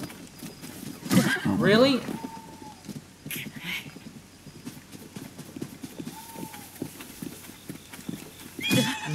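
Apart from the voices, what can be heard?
horse neighing and hooves clip-clopping in Zelda Tears of the Kingdom video game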